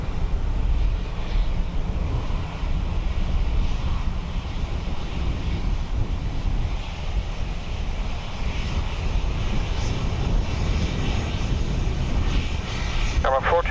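A steady, loud airplane engine roar at the Dublin Airport runway on a windy day, blended with gusting wind noise that carries through the whole stretch and ends in a brief flutter.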